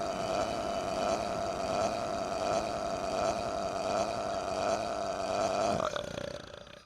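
A long, loud cartoon burp sound effect after eating something extremely spicy, a continuous rough, rumbling belch that holds steady for several seconds before cutting off and trailing away.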